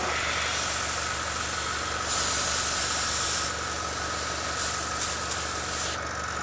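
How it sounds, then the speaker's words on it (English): Steady hissing spray of lubricant through an airbrush runs in short bursts over a constant mechanical hum, with a louder, brighter blast in the middle. "I'm going to keep putting lubricant and spray, lubricant and spray until it stops shattering"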